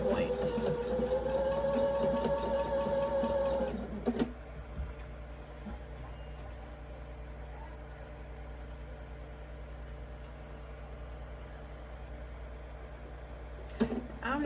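A sewing machine runs a straight stitch through quilt block pieces, a steady mechanical whir for about four seconds that then stops, leaving quiet room hum with a brief burst of motor noise near the end.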